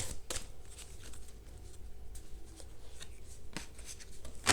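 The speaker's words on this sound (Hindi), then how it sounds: "आपके पार्टनर के कुछ डीप इमोशंस के लिए मैं कुछ कार्ड्स निकाल रही हूँ" Tarot cards being shuffled and drawn close by, a soft continuous riffling rustle with a few sharper snaps of cards being pulled and placed.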